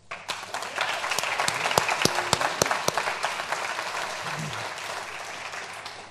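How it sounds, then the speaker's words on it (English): An audience at an art talk applauds artist Pierre Huyghe: a dense, steady round of clapping filling the room, with a few sharp, close hand claps standing out above the wash. "give another very big round of applause for Pierre Huyghe"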